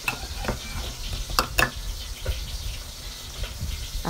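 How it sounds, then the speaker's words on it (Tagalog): Oil sizzling steadily in a pan as milkfish fries, with occasional sharper crackles and pops, moderately close, no talking. "habang nagpiprito tayo ng ating bangus"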